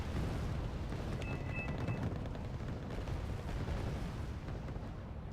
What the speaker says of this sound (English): The Mark 19 going bang bang bang,